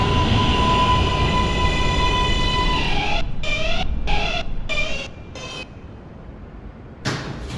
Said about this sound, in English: This is a Brooklyn-bound J local train.